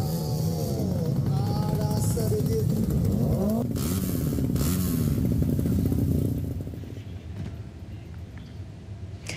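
Drag bike motorcycles racing at the 2025 Sidoarjo street race event, engines buzzing and revving loudly and continuously, with a strong high-pitched whine that fades slightly toward the end.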